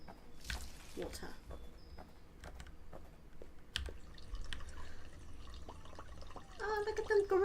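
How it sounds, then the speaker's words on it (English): Small water drips and splashes from watering plants in the Pumpkin Panic video game, scattered irregular taps over a low room background, with keyboard-like clicks and a brief voice nearby. "Water."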